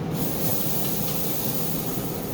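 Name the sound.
spray-misting mop sauce onto pork on a pellet grill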